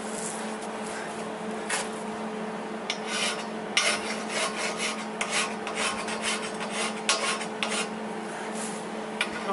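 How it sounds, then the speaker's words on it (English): A hand file rasps paint off metal caster wheels in repeated short scraping strokes, gritty and close, with a faint steady hum beneath. "so just file them. Some of the paint off to get a good surface."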